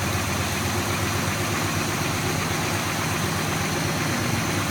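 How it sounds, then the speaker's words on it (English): A 1968 Oldsmobile 442 V8 idles steadily and evenly, a constant low rumble held close with no talk and no revving. "this is a 442 1968. We're just going to get her started up here."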